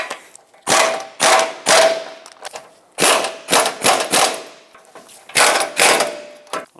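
Power tool tightening bumper impact absorber bolts on a 2014-2021 Mazda 6, a series of about ten loud, close bursts of rattling impact-driver whirring, each lasting a fraction of a second with short gaps between.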